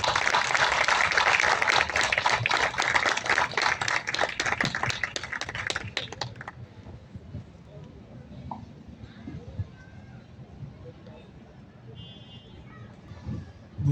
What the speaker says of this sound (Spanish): Así que recibamos a nuestro homenajeado con un fuerte aplauso.